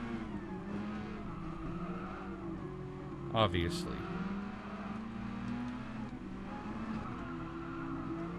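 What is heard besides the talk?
Red Bull X Junior race cars racing, from video game Gran Turismo Sport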